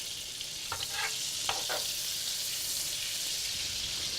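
Butter melting into hot vegetable oil in a pan gives a steady, even sizzle that runs throughout, with a few brief clinks or taps near the start and no talking.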